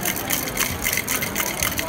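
A cocktail shaker with ice is shaken while mixing a sapphire martini with Boadicea gin, giving a quick, continuous run of rhythmic rattling bursts, fairly loud and close, with no talk.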